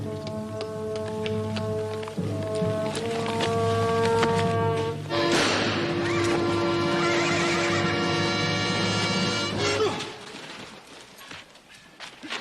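A horse whinnies loudly in a 1960s western setting, then a second longer neigh follows over a sustained musical score. Faint hoof clip-clop appears near the end.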